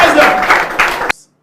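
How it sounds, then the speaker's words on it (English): Studio audience clapping at a Ghanaian television talk show celebrating a school quiz trophy win, a short loud burst of applause with a little laughter that cuts off abruptly. "Round of applause."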